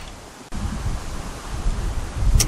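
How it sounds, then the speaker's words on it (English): Gusty wind buffets the microphone outdoors during a plastic welding job with a soldering iron, a steady broadband roar that swells and dips over a few seconds after a brief quiet start. "this wind is really kicking today"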